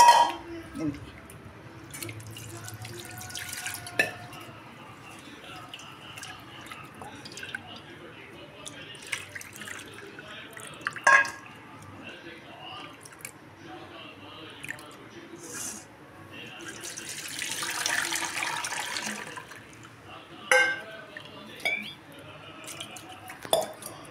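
Water poured over food being rubbed and rinsed by hand makes scattered drips, soft squishes and a short gushing pour, with occasional clinks of dishes and some talking.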